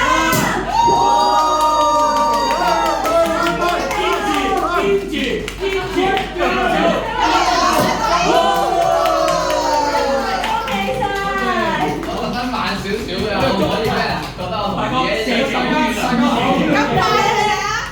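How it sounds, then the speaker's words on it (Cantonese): A crowd at the opening ceremony of a multi-purpose activity room claps and cheers loudly and continuously, with excited shouts and voices layered over the sustained applause. "我哋掌聲 keep 住"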